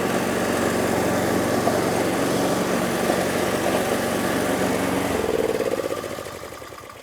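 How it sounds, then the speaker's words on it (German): A petrol mulching lawn mower engine runs loud and close in third gear with a steady rumbling drone, then winds down and fades near the end. "Ich mähe jetzt auch noch den Randbereich bzw. hier hinten noch ein bisschen mähen."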